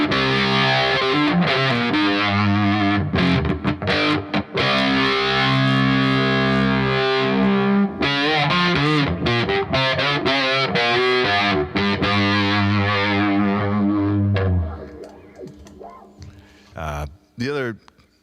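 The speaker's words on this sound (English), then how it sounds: "this phase shifter, like I said, it has a little bit of overdriviness to it" A distorted electric guitar runs through a sweeping phaser, gritty chords and notes swirling with a whooshing, throaty modulation, loud and upfront before fading out.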